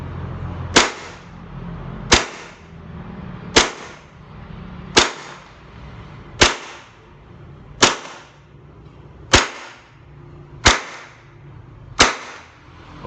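Cybergun Colt M1911 CO2 BB pistol firing nine sharp, evenly spaced shots about 1.4 seconds apart, each a crisp crack with a short tail, close and loud over a low background hum.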